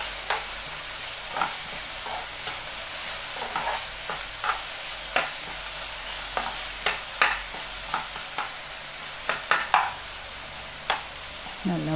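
Turmeric-spiced masala frying in a pan with a steady background sizzle, broken by repeated sharp scraping clicks from a spatula stirring it, with no talking.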